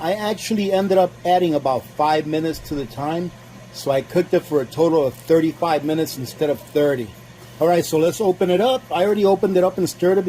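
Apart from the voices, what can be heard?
No everyday noises stand out.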